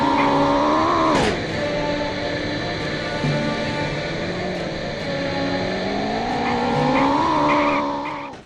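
A racing video game car engine drones steadily at high revs, its pitch dipping sharply once early and then climbing again toward the end, loud and continuous with no talk.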